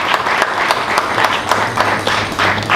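An audience at an award ceremony claps steadily, a dense, loud wash of many hands with faint pulsing, close and sustained throughout.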